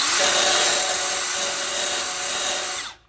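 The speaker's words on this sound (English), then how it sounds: "got myself a finger sander. Not sure exactly what they're called" A Makita finger belt sander runs with a loud, steady high whine for nearly three seconds, then abruptly winds down to silence; no one speaks.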